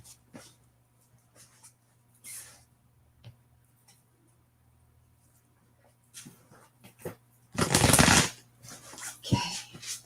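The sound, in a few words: shuffling Star Tarot cards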